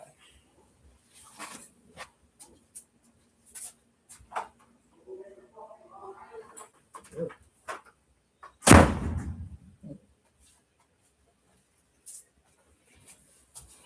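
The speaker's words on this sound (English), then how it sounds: "let me close this door." A door closes with a single sharp thud in a room, with scattered talk and small clicks before and a brief rumble trailing after.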